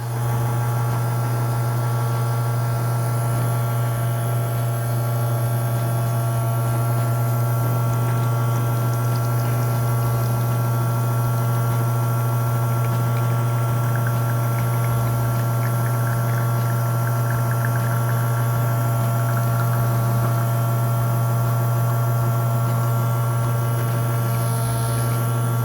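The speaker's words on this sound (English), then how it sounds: "We're preloaded with our espresso ground coffee, and basically we're going to pull a shot." Elektra Verve espresso machine pulling an espresso shot, a steady loud pump drone with a strong electric hum and soft hissing water flow, unbroken and alone throughout.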